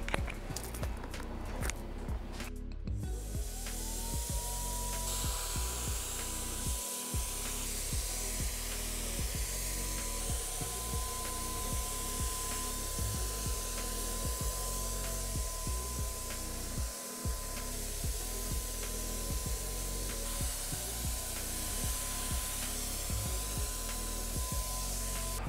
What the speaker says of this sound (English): Hopefully you could see there when I was spraying, I was overlapping by half.